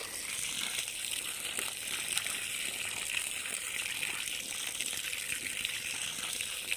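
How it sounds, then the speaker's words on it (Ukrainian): Water pumped from a garden borehole pours steadily from a hose onto the soil around young fruit trees. It is a soft, continuous gushing hiss, fairly quiet and close, with faint rustling and no talking. "Скважина працює."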